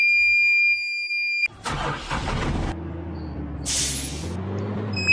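A bus rumbles past in a Sri Lankan driving simulator game, with a mid-pitched engine drone and a brief hiss like an air brake, heard fairly close and clear.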